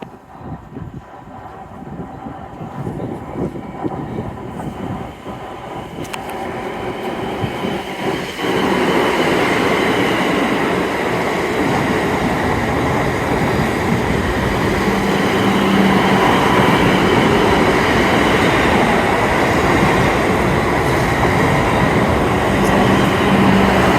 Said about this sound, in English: Another train passing.